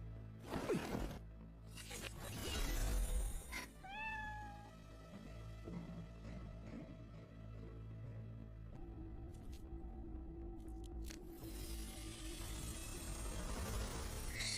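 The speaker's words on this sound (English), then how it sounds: "These cats can communicate with each other, and now they are all dispersed." A cat gives one clear meow near the start, set among rustles, whooshes and a faint low hum, with no speech.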